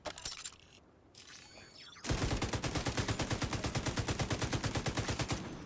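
A weapon firing in The Division 2 video game, a steady rapid automatic stream of evenly spaced shots that starts abruptly after a quieter stretch of faint scraping and clinks.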